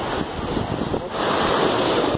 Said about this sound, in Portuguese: Meu Deus, a onda.